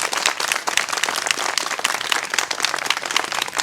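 Thin, scattered clapping from an audience at a job-exam rally, a loose crowd patter of uneven hands running steadily for a few seconds with no voices over it.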